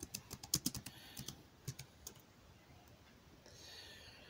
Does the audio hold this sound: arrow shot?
no